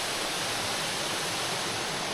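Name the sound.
waterfall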